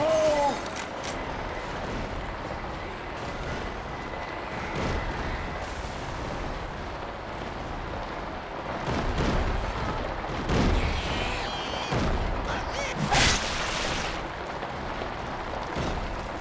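Pipe bomb going off in Left 4 Dead 2, a chaotic stretch of game combat with several sharp bursts and booms scattered over a steady rumbling bed, the loudest hits near the middle and late, with brief voices in the mix.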